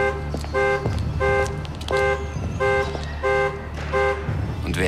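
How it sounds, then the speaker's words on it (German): Car alarm blaring nearby in a repeating pulsed pattern, several loud bursts in quick steady rhythm throughout. "Und wer hat dann gerade die Alarmanlage an seinem Auto ausgemacht?"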